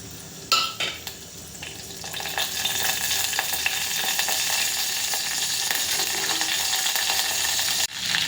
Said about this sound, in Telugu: నేను చూడండి జీలకర్ర ఆవాలు చేసుకుంటున్నాను. అలాగే పొట్టి మిరకాయ కరివేపాకు వేసేసుకుంటున్నాను.